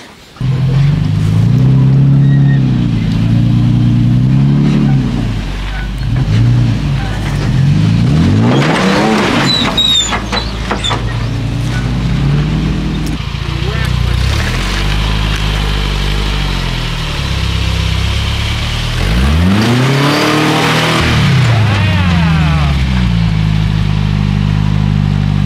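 A one-ton Toyota Tacoma crawls over backyard rocks, its engine loud and close, droning low, then revving hard in surges that rise and fall. A brief voice comes in partway through.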